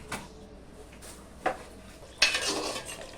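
Beef being stirred and braised in a pot over a clay stove, heard as a few sharp scrapes and clinks of a utensil against the pot, the last one longer and louder, with a low background between them.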